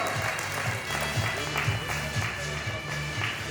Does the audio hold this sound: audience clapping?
yes